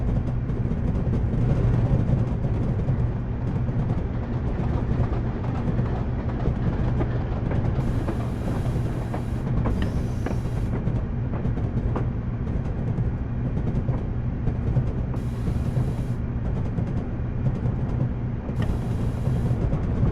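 A train in Train Simulator 2017 rolls past with a steady mechanical rumble and rhythmic wheel clatter, punctuated by brief bursts of brighter hiss.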